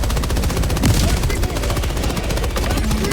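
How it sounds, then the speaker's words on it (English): Rapid, continuous gunfire and heavy impacts from an orbital barrage strike in a shooter video game, loud and dense throughout with no pauses. "Requesting orbital! Firing orbital barrage."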